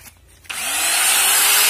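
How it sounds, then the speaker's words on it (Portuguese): An electric sander starts abruptly and runs steadily, loud and close, on the side panels of a refrigerator being prepared for painting, a continuous high whirring hiss after a brief quieter moment. "Lixando. Aí eu utilizo essa máquina que facilita mais o"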